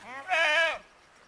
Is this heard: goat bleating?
yes